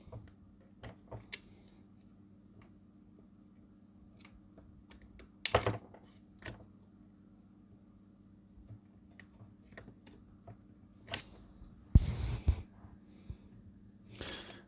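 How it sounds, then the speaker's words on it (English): Small clicks and knocks as a ZX Spectrum 48K keyboard and its ribbon cable are pushed into their connectors during a repair, with a couple of sharper taps partway through and near the end, all quiet with a low steady hum beneath. "all I'm doing is just slotting the keyboard in, the ribbon cable in"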